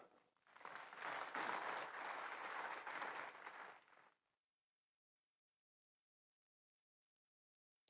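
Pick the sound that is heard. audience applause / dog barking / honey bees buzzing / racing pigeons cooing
audience applause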